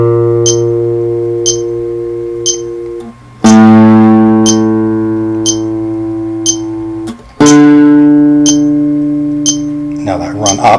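Bass notes of a song played alongside a steady clicking metronome: long sustained tones that change pitch every few seconds, each ringing and slowly fading, with the sharp ticks keeping time throughout.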